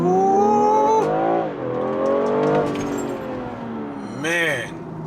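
A 2021 BMW M340i engine revs hard from a standstill launch, the pitch climbing in several rising sweeps before a final high rev burst, loud and close, with a man's whoops over it.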